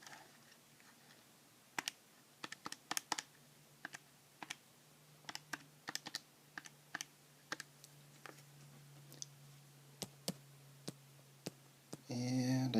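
Small calculator keys are tapped to enter numbers for a simple interest problem, a quiet series of crisp, irregular clicks close by with a faint hum behind and no talk.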